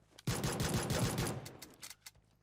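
Rapid automatic gunfire in PUBG Mobile: a dense close burst of shots lasting about a second, followed by a few scattered, fainter shots as the firing tails off.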